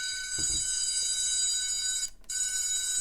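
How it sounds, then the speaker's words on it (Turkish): A smartwatch find-phone alarm rings steadily with high bright tones, continuous for about three seconds with a brief dropout near the end, alone without talk. "böyle bir alarm çalıyor"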